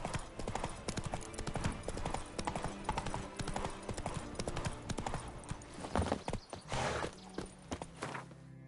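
Horse hooves clip-clop in a steady walking rhythm through The Witcher 3: Wild Hunt, sounding close and crisp over a soft game ambience, with occasional louder hoof strikes near the end.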